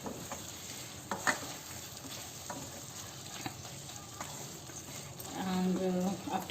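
Chilli paneer gravy is stirred in a pan with soft scraping and a light sizzle, steady and close, with a brief louder burst near the end.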